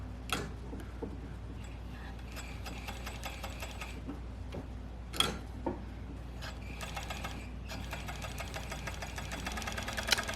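A serger sewing machine finishes fabric edges, its quiet rapid mechanical ticking and whirring stopping and starting in bursts, with a few louder clicks and knocks, faint and nearby.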